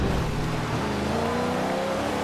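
A restored barn-find car's engine revs in Forza Horizon 2, its loud, steady drone rising in pitch as it climbs through second gear.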